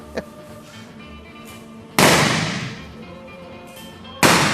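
Gunshots from guns fired at a Klondike Days event: two loud, sharp blasts, one at mid-clip and one near the end, each followed by a long fading tail over a low background.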